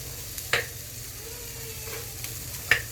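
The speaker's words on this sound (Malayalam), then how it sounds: "ഇവിടെ ഒരു കുഞ്ഞ് നോൺ സ്റ്റിക്കിൻ്റെ ഒരു കടായി വെച്ചിട്ടുണ്ട്. അപ്പോൾ അതിനകത്തോട്ട് നമ്മുടെ തേങ്ങ ഇടാം." Grated coconut fries in a small non-stick kadai, a faint low sizzle running steadily with two sharp stirring scrapes, close and quiet.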